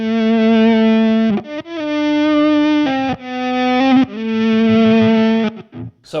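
Electric guitar run through an EHX Attack Decay pedal with its overdrive edge, sustained distorted chords swelling in and cutting off in a series of separate bursts, loud and close with no voices.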